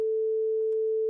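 A single steady electronic tone holds at one pitch, clean and unbroken, then cuts off abruptly.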